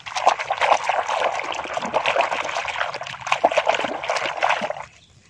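A Batman toy being rinsed and scrubbed in water, with steady close trickling, splashing and gurgling for about five seconds before it stops abruptly.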